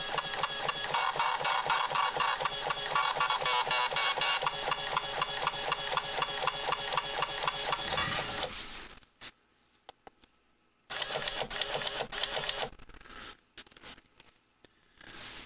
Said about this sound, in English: It indicates this is printing from the RIBBIT65 to the Citizen